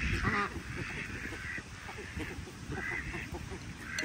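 Ducks and geese being fed make repeated nasal quacks and honks close by, with scattered bursts over a soft background of shuffling.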